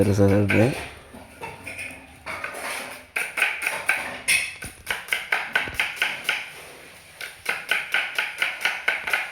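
A father, an experienced cook, rapidly chops vegetables for a family Sunday biryani, giving a fast, steady run of knife taps on a board, close and distinct, with voices talking over parts of it.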